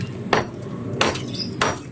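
A hammer strikes three times during construction of a concrete tomb, each blow a sharp metallic clank at a slow, uneven pace, with no one speaking between them.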